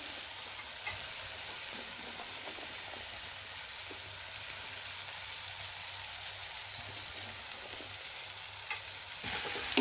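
Okra fries in masala with a constant crackling sizzle while a spoon stirs it now and then, the sound staying even and close throughout with no talking.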